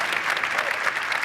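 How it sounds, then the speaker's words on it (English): An audience at a conference keynote claps steadily, a dense wash of applause throughout the brief moment. "let's give them a round of applause for doing such a great job"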